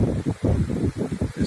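Outdoor wind buffets and roars in uneven gusts right against the microphone, loud and close with a low rumbling texture.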